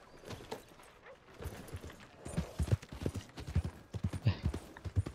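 Horse hooves in Red Dead Redemption 2 clop in a quickening rhythm, quiet at first and then loud, close and regular as the horse moves faster over the ground.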